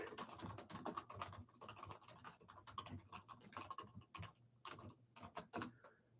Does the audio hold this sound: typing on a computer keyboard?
yes